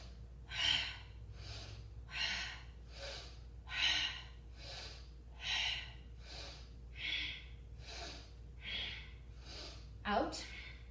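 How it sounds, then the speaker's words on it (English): A person in a yoga kriya breathes rhythmically out and in through the mouth, about eleven strong, close breaths at a steady, even pace, with no words spoken. "Out and in. You can breathe through the mouth."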